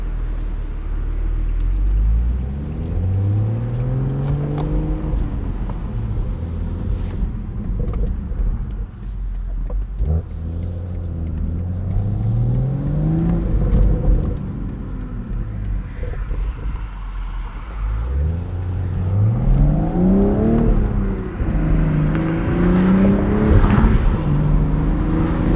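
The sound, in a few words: BMW Z4 M40i manual driving on road, exhaust pops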